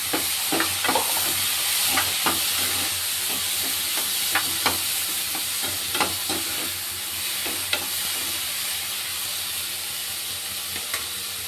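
Moth beans and turmeric are stirred into fried onions in a hot pan, making a continuous loud sizzle and hiss, punctuated by many irregular clicks and scrapes of the spoon against the pan.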